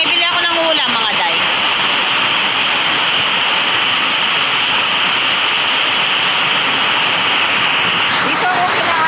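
Heavy rain pours down in a steady, loud broadband rush beside a creek behind a house, continuous throughout, with a brief voice near the start and end.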